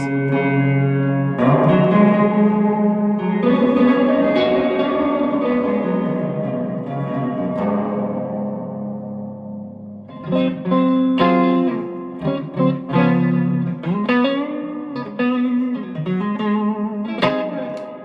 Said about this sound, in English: if I turn the reverb up as well, this thing gets really cavernous